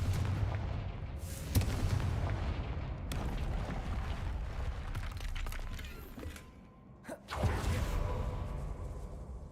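A Confringo blasting spell goes off in Hogwarts Legacy: loud, sustained explosive crackling and rumbling with several sharp bursts, a brief dip near the end, then another blast.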